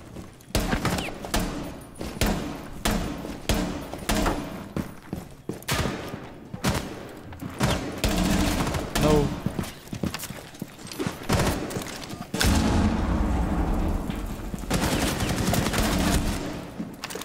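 Rainbow Six Siege gameplay fills with loud, dense gunfire: rapid automatic bursts and single sharp shots close by, nearly continuous throughout with brief gaps.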